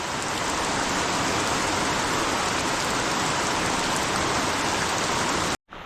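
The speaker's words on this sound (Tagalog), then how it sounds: "Ay talagang walang tigil mga kautol ang ulan." Heavy, unbroken rain pouring down steadily outdoors, a dense, loud hiss with no pauses that cuts off abruptly right at the end, with no voices over it.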